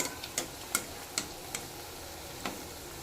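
Rice anarse fry in oil while more oil is spooned over them, giving a soft, steady, faint sizzle broken by a few sharp ticks and pops.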